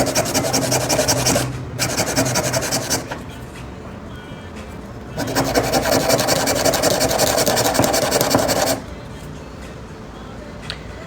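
A high-pitched electric nail drill whirs in two sustained bursts, a short one then a longer one, with quieter motor hum between them.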